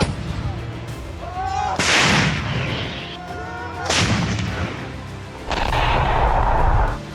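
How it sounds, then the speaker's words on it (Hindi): Heavy artillery or tank shell fire in a cross-border clash, with several loud booming blasts landing in bursts over a rumbling background of distant fire and commotion. "रात भर दोनों ओर से टैंक से निकले गोले आग उगलते रहे।"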